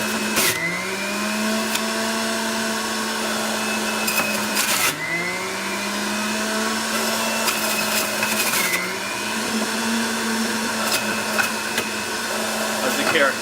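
A Breville juicer grinds ginger with a loud, steady motor whine that dips in pitch each time the ginger is pushed into the blade, then recovers, over about a dozen seconds.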